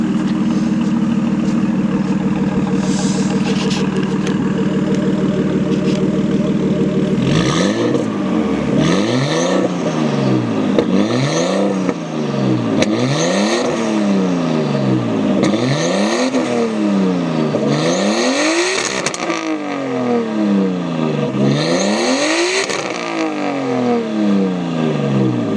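A Nissan Skyline R32 engine with a Tomei exhaust idles with a low rumble, then revs repeatedly in rising and falling bursts, loud and close, with no talking.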